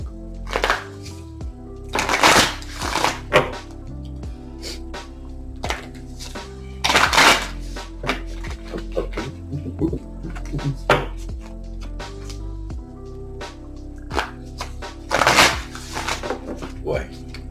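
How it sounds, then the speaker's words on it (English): Tarot cards from an astrology deck being shuffled by hand, repeated riffling bursts of crisp papery clatter separated by quieter handling, with a person talking between the shuffles. "Boy, shuffling these cards."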